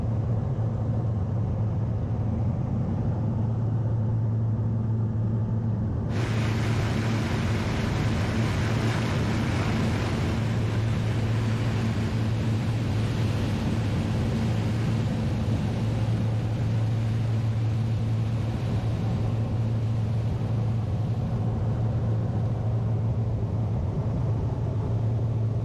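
The engines of an Avro Lancaster bomber drone at 1800 RPM cruise at altitude. The low, even hum runs unbroken with a rushing wind layer and no voices.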